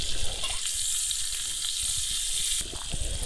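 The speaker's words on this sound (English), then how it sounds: "I'll get the fiddleheads in there. It's like a wild Northern Ontario stir fry." Steady, loud sizzling of fiddleheads and pheasant back mushrooms stir-frying in a pan outdoors, a continuous hiss with small crackles and pops and a brief scrape partway through.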